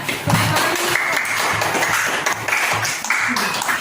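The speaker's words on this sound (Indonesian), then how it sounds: "Tepuk tangan dulu untuk kelompok kewajiban." Classroom applause for a student group after their presentation, a steady wash of clapping from the whole class, close and fairly loud, with a few brief voices mixed in.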